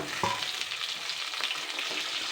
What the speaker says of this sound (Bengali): এই চারশো গ্রাম পটলটা আমি কিন্তু দিয়ে দিচ্ছি পটলটা এবার ভেজে নেব